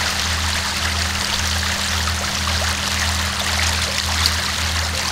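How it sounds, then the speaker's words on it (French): Tidal water flows slowly with a steady current over a submerged passage at Saint-Malo during one of Europe's largest tides, a constant loud wash with a low rumble underneath and no voices. "Voilà l'eau qui coule lentement. Et le courant, on le voit parfaitement ici."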